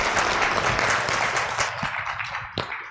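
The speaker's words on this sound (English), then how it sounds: "Round of applause." Audience at a conference session in an African summit hall claps in a steady round of applause, moderately loud and filling the whole moment, with a few sharper individual claps near the end.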